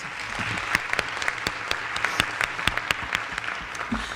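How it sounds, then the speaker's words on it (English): An audience at a student service day event gives a round of applause, dense even clapping with distinct sharper claps standing out, steady throughout and ending abruptly. "Let's all give them a big round of applause."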